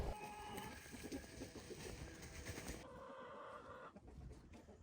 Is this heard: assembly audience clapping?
no